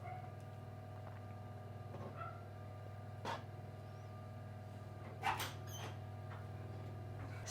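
Humphrey the dog gives soft, faint whimpers and a couple of brief yips against a steady low indoor hum, the sharper cries standing out around the middle and later, with no talking.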